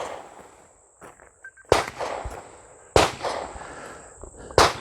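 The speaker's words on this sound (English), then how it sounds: "now I'm going to shoot the same A-Post course with a gun that has no sights on it" Three sharp, loud pistol shots at a range from a gun with its sights removed, spaced over a couple of seconds with faint ringing between them and a high steady whine in the background.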